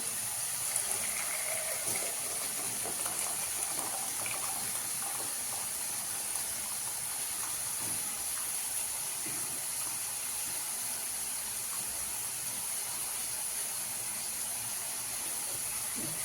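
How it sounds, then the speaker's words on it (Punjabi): Hot water pours off boiled potatoes through a strainer in a home kitchen, a steady loud hissing gush that runs unbroken throughout, with no talk over it. "ਪਾਣੀ ਸਾਰਾ ਨਿਕਲ ਗਿਆ"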